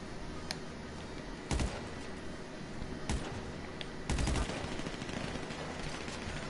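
Gunfire bursts in the GTA video game: several short, loud volleys of rapid shots over a constant background hum, with distinct bursts scattered across the moment.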